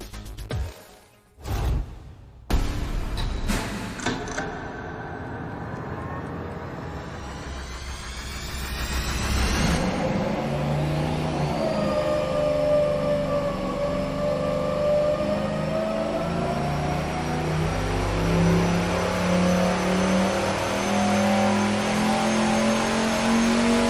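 Turbocharged engine on a dyno, the Turbo MoHo 4-4-0, with sharp bursts at start-up, then a sustained loud roar as revs climb and a rising turbo whine, continuous with no talk.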